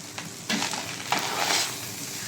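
Egg fried rice being stir-fried in a pan, a steady sizzle with scraping stirs and a few louder clatters of the utensil, close and continuous with no talking.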